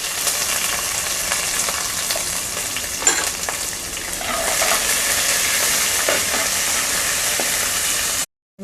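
Continuous sizzling hiss of chopped onion and curry leaves frying in hot oil, with occasional stirring clinks, close and steady before cutting off abruptly at the end.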